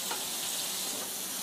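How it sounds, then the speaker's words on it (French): Scallops sear in a hot pan just after turning, a brief, bright, hissing sizzle that holds steady and close. "Là, on va retourner les Saint-Jacques."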